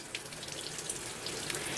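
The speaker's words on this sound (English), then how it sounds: "I'm going to wash the outside of the squash." Tap water runs in a steady, close splashing stream as a butternut squash is rinsed under the faucet, with small uneven patters as the water hits the squash.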